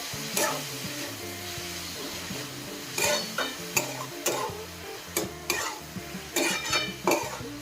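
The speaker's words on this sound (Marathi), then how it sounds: "कांदा परतत असतानाच आपल्याला त्याच्यात मीठ टाकून घ्यायचं आहे म्हणजे कांदा आपला जो आहे तो पटकन फ्राय होईल" Salted onions are sautéed in a pan, Maharashtrian village style. A soft sizzle sits under a low mechanical hum while a spoon scrapes and stirs in irregular bursts, close by and with no speech.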